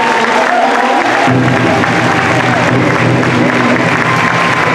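A large crowd at a high school graduation ceremony applauds alumni with steady, loud clapping and a murmur of voices that carries unbroken throughout.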